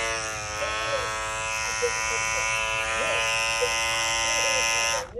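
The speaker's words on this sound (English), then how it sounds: "It's the loudest clipper I got on my station." A loud cordless Andis hair clipper buzzing continuously close up, a strong steady electric drone with a sharp whine that keeps an even level for about five seconds before it switches off. A voice murmurs faintly beneath it.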